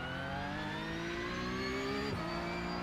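A Porsche 911 Cup race car, naturally aspirated and revving toward 9,000 rpm in the PC sim iRacing, holds a high steady engine whine that climbs, then drops abruptly with a gear change, loud and close.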